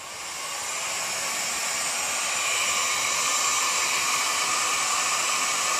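Heat gun set to its low setting blowing steadily on a plastic Mudhugger bicycle mudguard, a continuous loud airy whoosh that rises briefly at the start and then holds even, with no talking.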